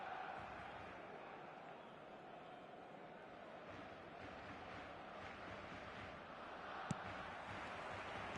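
A stadium crowd in a football video game, likely eFootball, roars as one steady wash of noise with no breaks, quiet and distant throughout.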